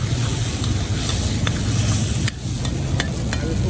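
Chicken white koyla karahi with garlic, ginger, yogurt, cream and a spoon of water is stirred in a pan, with close scraping and stirring over a steady sizzle and a few sharp clinks.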